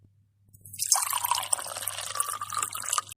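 Water poured into a drinking glass for a spouse during a candlelit anniversary evening, a steady close splashing fill lasting a few seconds with a faint low hum beneath.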